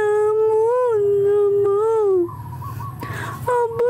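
A pet dog whimpers and howls in a long, wavering, high-pitched cry that rises and falls, then breaks into shorter whines and yips, close and loud over a low background hum.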